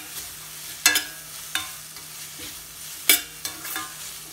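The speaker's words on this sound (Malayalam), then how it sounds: "ഇനി ഇത് മിക്സ് ചെയ്ത് കൊടുക്കാം." Chicken noodles dusted with pepper powder are stirred in a pan: a handful of sharp scraping strokes at irregular intervals over a faint, quiet sizzle.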